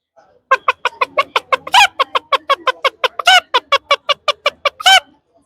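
A human voice imitates a hen clucking at dawn, giving a fast, even run of about twenty short clucks with a few louder, drawn-out squawks mixed in, close and alone.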